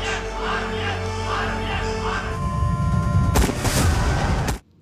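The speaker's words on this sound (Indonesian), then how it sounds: "Mukun keluar dari penyamarannya dan menembak para kelompok Asif Wani." Gunfire erupts in a war film battle scene as soldiers shoot at a rebel group, with booming shots over a musical score that swell into a loud burst of blasts before cutting off abruptly.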